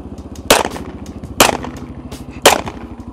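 Three sharp pistol shots, evenly spaced, ring out while riding a motorcycle in a video game, each crisp crack standing clearly above a steady puttering engine drone.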